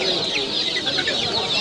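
A flock of hens at the Sabunçu poultry market clucks and chatters continuously, many birds close by overlapping in a busy, steady din.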